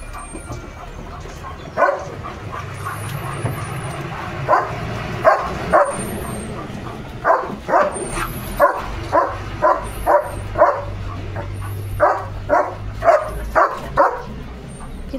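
Leo, a pet dog, barks repeatedly and loudly at nearby passing vehicles, the sharp barks coming in bursts over a low traffic rumble and a steady hum.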